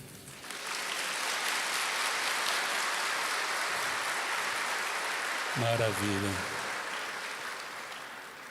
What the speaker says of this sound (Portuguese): Vocês vão ter que bater palmas para vocês mesmos.